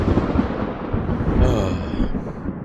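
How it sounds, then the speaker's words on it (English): Thunder rolling heavily and close, a dense low rumble that fills the whole stretch and swells slightly near the middle, with no talk over it. "Y'all know how much I hate thunder"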